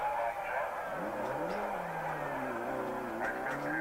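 A Group B rally car brakes hard, its engine note dropping and wavering in a loud, close, continuous drone over a few seconds.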